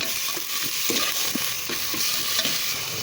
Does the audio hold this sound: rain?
no